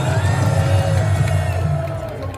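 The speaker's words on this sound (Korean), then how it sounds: "수고하신 우리 선생님께 한 박수를 보내시기 바랍니다" A large outdoor rally crowd cheers and shouts for teachers, a loud, dense roar of voices with whoops and some clapping that fades slightly toward the end.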